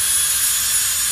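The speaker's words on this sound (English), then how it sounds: "typical and pretty standard jet engine for most of the jet cars" Jet engine of a jet dragster at a drag racing exhibition, a loud steady roar with bright high-pitched whine, continuous and close throughout.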